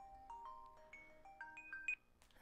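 A phone ringtone plays a short rising melody of bright electronic beeps, quiet and alone, ending with a brief clatter.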